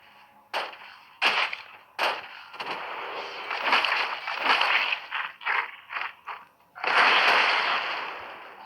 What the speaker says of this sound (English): Charge up more of Burst Cannon.